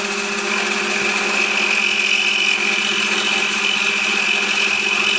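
An electric drill with a 9 mm bit bores into a cylinder head for a Fu valve-angle modification, a steady high whine running continuously and loud, with no talk over it.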